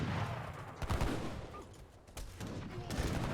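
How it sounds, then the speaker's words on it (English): Culverin cannon fire in the Age of Empires III strategy game, a dense clatter of battle shots with sharp bursts layered over continuous noisy combat. "Finally, Culverin gets 1 shot off on the heavy cannons."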